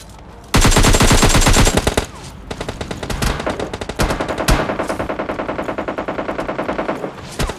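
Rapid machine gun bursts in a battle royale video game, one long loud burst followed by several shorter volleys and a steady stream of rhythmic shots, with no speech.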